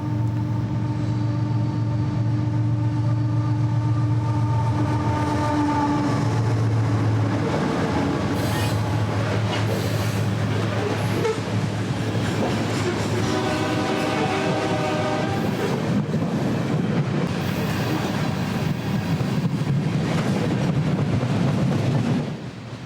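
A CP freight train led by locomotive 8781 passes along the Iowa side in the Driftless area, its horn sounding in long blasts, then rumbling wagons, clattering wheels and squeals, loud and close throughout.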